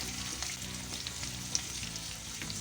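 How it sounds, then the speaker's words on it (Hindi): Flat beans and onions frying in a pan, a steady close sizzle with soft stirring scrapes and no talk. "हल्दी पाउडर डाल के मैं फ्राई करूंगी इसे"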